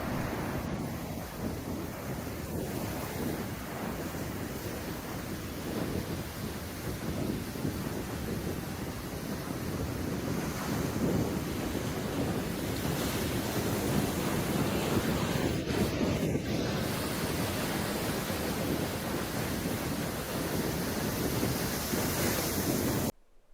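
Ocean surf at Thor's Well on the Oregon coast, a steady, loud wash of waves breaking and churning throughout with some wind rumble, no voices.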